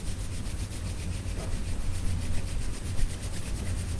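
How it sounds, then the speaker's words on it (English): Palms rubbing briskly together to generate warmth during a yoga session, a steady close swishing friction that keeps an even rhythm throughout, no talking. "The hands rubbing together, bringing that warmth into the palms of the hands."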